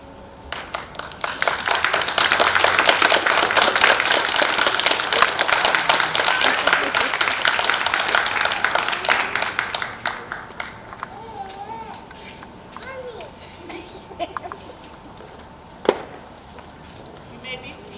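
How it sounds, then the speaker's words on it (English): Graduates stand and give a round of applause at a 2021 adult education graduation ceremony; sustained dense clapping from a large group for about ten seconds, then fading into room noise with a voice over a public address system. "graduates, please stand and give a round of applause to celebrate your love."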